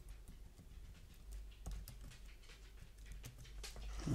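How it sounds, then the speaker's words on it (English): A dog panting at dinner time, faint quick rhythmic breaths in a quiet room, with a few light tapping clicks mixed in near the end. "It's dinner time for the dog."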